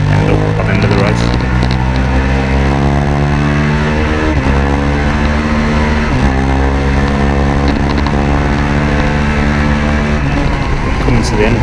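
Onboard Minitwins racing motorcycle lapping Oulton Park during a race, its engine loud and continuous, with rising and falling harmonic sweeps from gear changes and throttle shifts through the corners, and the rider talking over it.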